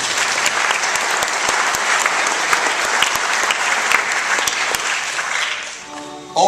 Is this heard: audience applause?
yes